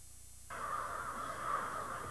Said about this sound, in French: quand les corneilles s'assemblent pour dormir